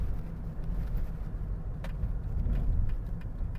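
Steady, close rumble of engine and road noise inside a moving Mercedes-Benz car as it pulls forward, a dense low drone with no voices.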